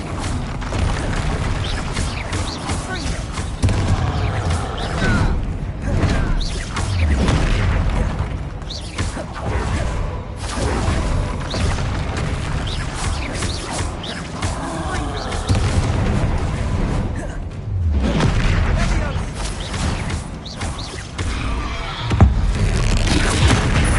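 Bombarda blasting spell explosions in Hogwarts Legacy, loud repeated booming blasts and rumbling impacts over dense continuous game noise, with no clear gaps between bursts.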